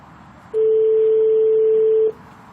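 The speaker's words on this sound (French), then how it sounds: "Ça sonne." A telephone call to an office rings out as one long, steady, loud electronic tone lasting about a second and a half, heard alone with no voices.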